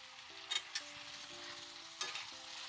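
Eggplant pieces dropped into a frying pan for a mixed vegetable curry give a faint sizzle under soft background tones, broken by a few brief clattering bumps.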